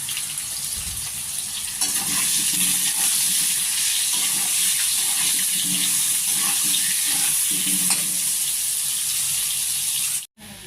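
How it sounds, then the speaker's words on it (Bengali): Potatoes seasoned with salt and turmeric sizzle in hot oil for a mutton curry, a constant bright crackle up close with occasional stirring scrapes, cutting off briefly near the end. "আলু ভাজা হয়ে গেছে, এখন আমি নামিয়ে নেব আলুগুলো"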